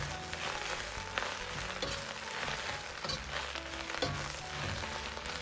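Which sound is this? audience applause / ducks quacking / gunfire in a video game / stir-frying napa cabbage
stir-frying napa cabbage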